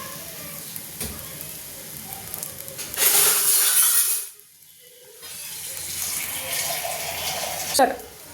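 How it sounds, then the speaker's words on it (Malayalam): Boiled and cooled water pours with a rushing splash into a hot pan of Kerala fish curry, briefly stops, then a steadier pour and sizzle follow, close by. "അതിലേക്ക് നമുക്ക് അല്പം വെള്ളം ഒഴിച്ചു കൊടുക്കാം"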